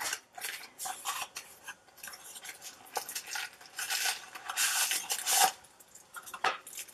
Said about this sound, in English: So let me just open up this box.